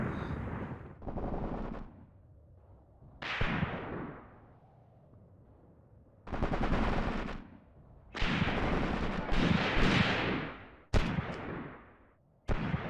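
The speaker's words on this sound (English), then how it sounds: "We are getting some shots off down here. So is the enemy on us." Gunfire in the war game Graviteam Tactics: Mius Front, with repeated bursts of machine-gun and rifle fire and booming shots, heard at moderate distance in irregular clusters separated by short lulls, without voices.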